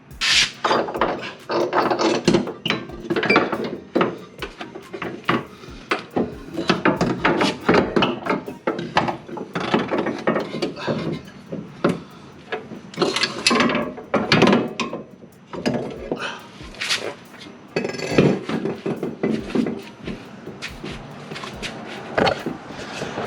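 Work on a Lexus IS300's suspension while pulling out an old coilover brings close, irregular metallic clanks, ratcheting and knocks in uneven bursts with short pauses between.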